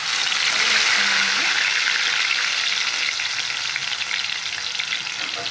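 Ginger garlic paste frying in heated oil in a kadai makes a loud, close, continuous hissing sizzle that stays steady throughout.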